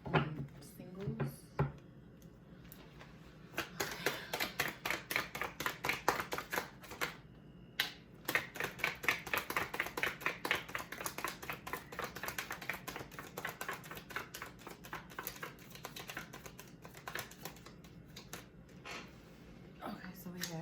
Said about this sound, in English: Okay, these cards don't want to go together. Okay, one more shuffle.